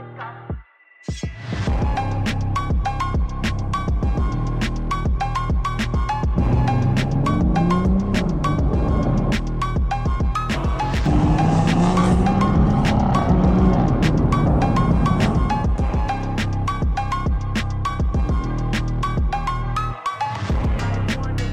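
A BMW 118i converted with a B58 M140i engine runs steadily and loudly, a continuous engine drone with rising and falling revs and sharp crackling pops scattered throughout, heard up close.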